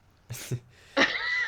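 A single close sneeze: a short sharp intake followed by a forceful, breathy burst, heard alone without speech.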